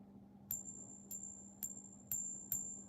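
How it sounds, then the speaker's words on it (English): A regular clad half dollar (non-silver) struck five times at a steady pace, each hit producing a bright, high, ringing ping over a faint constant hum. "The sound of a regular half dollar,"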